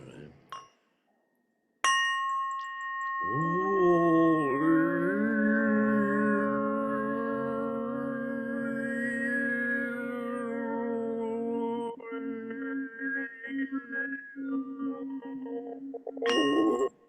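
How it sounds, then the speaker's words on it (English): A bell at an online gong gathering is struck once, then a rich, sustained ringing tone swells and hangs for over ten seconds before gradually thinning out, with brief speech just before the strike and near the end. "which is that if I hit the bell,"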